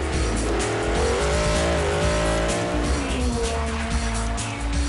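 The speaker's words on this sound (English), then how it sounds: "the specially built Pikes Peak cars setting the early pace." Loud, continuous roar of high-revving, specially built Pikes Peak race cars racing uphill at the Goodwood Festival of Speed, pitch rising and shifting, tires squealing under the steady engine noise.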